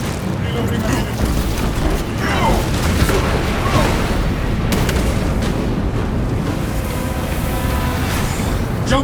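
Frag grenade launched and bursting in Warhammer 40000: Space Marine 2, a loud rumbling blast and boom amid constant dense combat noise, with a voice talking over the din.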